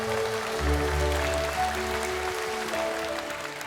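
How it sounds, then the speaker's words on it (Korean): An audience at a Buddhist memorial lecture concert gives steady, moderately faint applause to welcome a monk to the stage. It sounds like a hall full of people clapping without talking. "따뜻한 박수로 환영해 주십시오."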